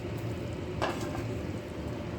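Sweet corn simmers in masala in a pan, a steady low sizzle and bubbling with a faint stir or scrape partway through, close and continuous.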